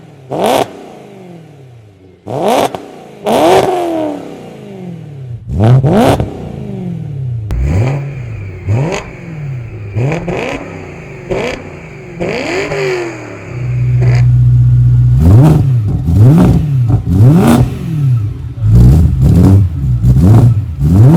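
A BMW M3 fitted with Turner Motorsports downpipes and its catalytic converters deleted, running a straight pipe, revs hard in a series of sharp, loud throttle blips, each climbing and falling back, with a sustained drone in the middle and no talking.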